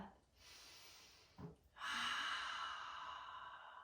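A big, full deep breath during a gentle yoga class: a long airy inhale, a short pause, then a louder, sustained sighing exhale, close and otherwise quiet.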